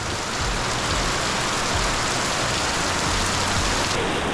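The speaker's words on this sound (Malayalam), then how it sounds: "നല്ല മഴ തകർത്ത് വീഴുവാണ് കേട്ടോ" Heavy rain pours down in a dense, continuous hiss, drumming steadily on nearby surfaces without a break, at a gourami fish farm.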